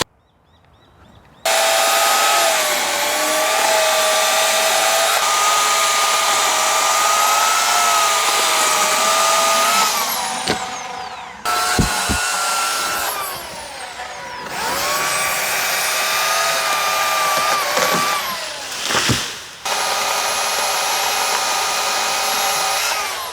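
An Oregon CS1500 electric chainsaw cutting timber, used from a ladder: a loud, high, steady motor whine that runs almost unbroken, dipping briefly in pitch and cutting out twice before revving back up.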